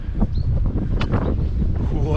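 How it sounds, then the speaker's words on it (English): Cold wind blows across an open hilltop near a trig point in Terrick Terrick National Park, a steady low rumble buffeting the microphone throughout, with faint rustling and occasional short bursts. "Oh, that wind's cold."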